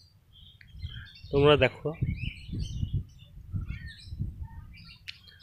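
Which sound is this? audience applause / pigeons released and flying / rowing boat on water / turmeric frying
pigeons released and flying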